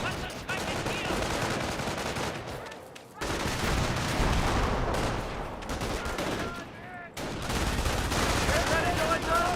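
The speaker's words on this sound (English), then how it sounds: "MG fires away" Machine-gun fire in Company of Heroes, steady rattling bursts broken by short pauses, loud and close amid battle noise, with a faint voice underneath.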